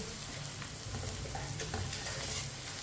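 Crushed red chili and turmeric powder fry in a pan for an onion and tomato sabzi, giving a steady, close hiss of sizzling oil with soft stirring scrapes throughout and no talking.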